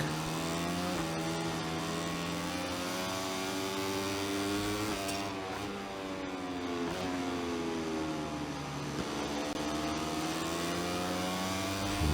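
Racing motorcycle engines in MotoGP 24 scream steadily at high revs throughout, with rising and falling pitch sweeps as bikes shift gears and brake, loud and continuous with no voices.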